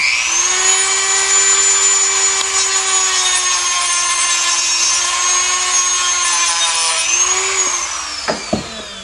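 A power tool polishes the inside surfaces of a steering gearbox part from a 1953-1962 Corvette. It gives a steady, close, high-pitched whine that holds for several seconds and then slows and winds down, ending in a few light knocks.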